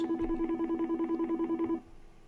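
A rapid, rhythmic telephone tone pulses steadily for under two seconds on a radio call-in show, then cuts off and leaves a low hum.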